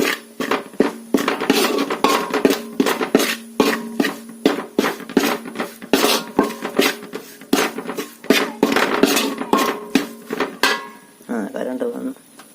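A spoon stirs a pan of cooking for a beef fry, scraping and clinking against the metal in quick, irregular strokes, close and fairly loud throughout.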